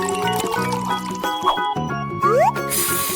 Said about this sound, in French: il ne reste plus qu'à tout verser dans la machine et mélanger